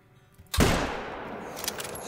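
A single loud, close rifle shot fired at a red deer in a hunting video game, a sharp boom with a long rumbling tail that fades over about a second and a half.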